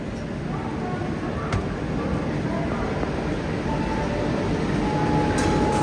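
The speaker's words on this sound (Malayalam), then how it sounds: "2-ാം നമ്പർ പ്ലാറ്റ്ഫോമിലാണ് കന്യാകുമാരി ദിബ്രുഗഡ് വിവേക് എക്സ്പ്രസ് വരിക" The Kanyakumari–Dibrugarh Vivek Express arrives at a station platform, a steady broadband rumble of rolling coaches with faint rail clicks, people talking over it throughout.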